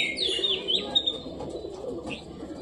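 White lakka pigeons in a coop give soft, low cooing calls over a few seconds, close by, mixed with brief higher chirping notes and light movement sounds.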